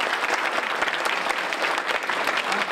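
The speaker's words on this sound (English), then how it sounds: "So how about a round of applause for all three teams?" Steady, dense applause from an audience at a senior chef cooking competition, honoring three competing chef teams; loud, continuous clapping filling the room without a break.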